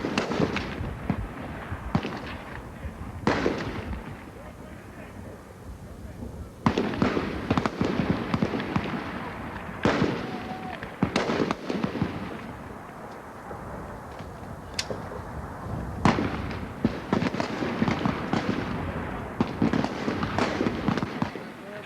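Rifles fire on an army basic training range with soldiers in prone firing positions: sharp, sporadic reports ring out in irregular clusters with gaps between, some loud and close, others overlapping against steady outdoor background noise.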